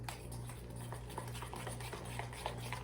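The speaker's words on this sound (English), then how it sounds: "And you want to mix this up until it gets all the way smooth." A spoon stirs pumpkin spice loaf batter with almond flour in a bowl, making soft, rhythmic, slightly wet scraping strokes over a low steady hum, no talking.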